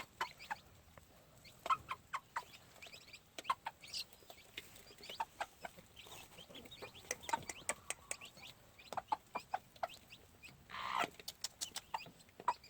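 Gamefowl hens on a farm cluck in short, scattered bursts, soft and fairly close, with irregular pauses and a few louder clucks, with no talking.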